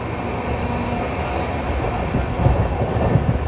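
A Garib Rath train runs through Laksar Junction, its steady rumble and rolling wheel noise close and loud, with rhythmic clickety-clack knocks from the rails growing more pronounced toward the end.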